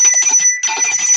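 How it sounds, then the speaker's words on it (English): A bell rings with a sustained bright tone that briefly cuts out and then rings on, heard alone with no talk over it. "Bells do break up energy."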